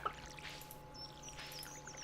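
Crops being watered with a watering can in the farming game Stardew Valley, a gentle, quiet pouring splash from the game, heard alone at low volume.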